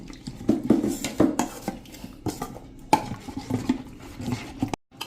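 Water being poured out of a rinsed mixer jar into tamarind-date chutney, heard as clattering jar and dish sounds with close splashy knocks in an uneven rhythm, no talking.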